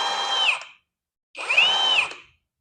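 An impact wrench runs on speed setting 3 in two loud, close bursts of high whirring, each about half a second to a second long, with a short silence between them.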